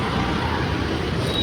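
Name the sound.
road traffic noise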